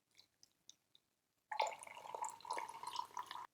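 Hot water poured over oolong tea leaves in a kyusu teapot, a few faint drips first, then a steady close trickling pour that runs to the end.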